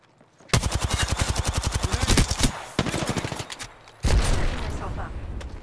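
Automatic gunfire in the Apex Legends video game: rapid bursts of shots fired close by, one long stream and then a few shorter bursts, loud throughout.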